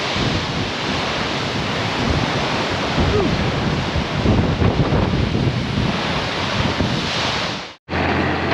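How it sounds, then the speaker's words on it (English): Hard rain and strong wind from a storm over a cornfield: a steady, loud broadband roar with gusty wind buffeting the microphone, continuous throughout and cutting out abruptly near the end. "Pretty hard rain and it is really windy."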